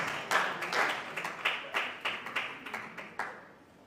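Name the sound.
audience applause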